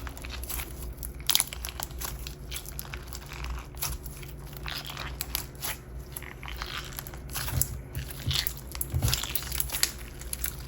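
Close, soft crunching and crackling as a crunchy frog spawn slime made with extra base is squeezed and squished by hand, repeated irregular pops and crinkles, quiet and alone.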